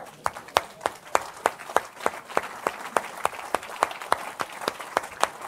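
A church congregation claps in a steady, evenly spaced rhythm, sharp claps repeating about three times a second, lively and fairly close, with a murmur of voices underneath.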